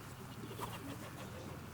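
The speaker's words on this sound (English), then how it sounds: "one of his best channel pigeons, a grizzle cock" A racing pigeon, a grizzle cock, gives soft low cooing, faint and muffled against a quiet background hum.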